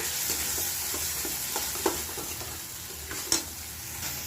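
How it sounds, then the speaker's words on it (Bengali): A mixed vegetable curry with cashew and poppy seed paste is sautéed with a soft, steady sizzle. Light scraping stirs come at intervals, a couple of them sharper clinks, and no voices are heard. "এইভাবে কষাতে হবে যতক্ষণ না কাঁচা গন্ধটা চলে যায়"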